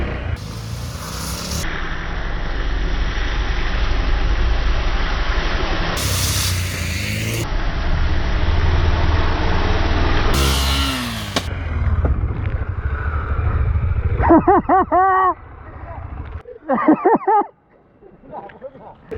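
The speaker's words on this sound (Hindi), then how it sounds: "हम ऐसे ही बाइक कुदाते कुदाते आगे जाते रहे" KTM Adventure 390 motorcycle ridden hard off-road on trails, its engine droning loudly and steadily with repeated surges and revs, ending in sharp bursts of throttle before fading into quieter rustling.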